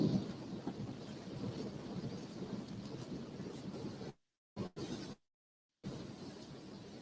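A violent storm in Florida roars from inside a car, steady rushing wind and rain noise pressing against the vehicle, loud and continuous, broken by a couple of sudden dropouts to silence.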